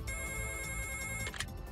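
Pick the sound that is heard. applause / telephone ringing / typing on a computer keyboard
telephone ringing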